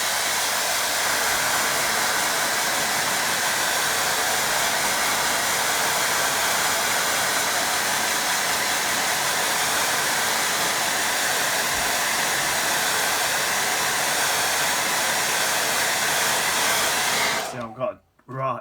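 Hair dryer blowing steadily and loudly over wet watercolour paint, a constant close whoosh that cuts off abruptly at the end.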